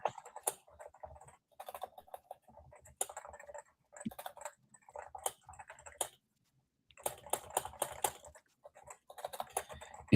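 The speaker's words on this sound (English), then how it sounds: "your keyboard sounds nice. Little mechanic." Rapid keystrokes on a mechanical keyboard with top-row switches, clicking in irregular bursts separated by short pauses, close and fairly quiet with no talking.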